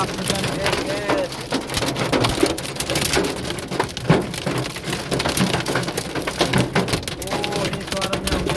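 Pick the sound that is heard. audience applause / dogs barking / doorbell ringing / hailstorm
hailstorm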